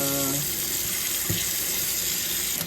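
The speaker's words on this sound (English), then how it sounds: "I'm gonna start running this water." Water pours steadily from a tap into a sink with the stopper down, a continuous loud rushing splash that fills the whole stretch.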